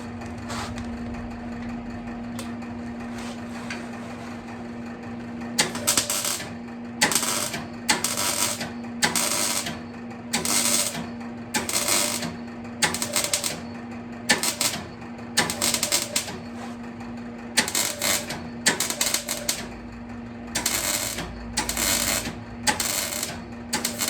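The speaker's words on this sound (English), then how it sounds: "I'm just going to tack weld it all the way around" A series of short crackling bursts of tack welds around a patch on a BMW E46 convertible exhaust, each tack a brief loud buzz with gaps between, over a steady background hum.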